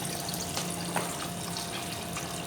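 Water poured into a sump pit during a submersible pump float switch demonstration, a continuous loud splashing rush and gurgle with a steady running water and pump hum underneath.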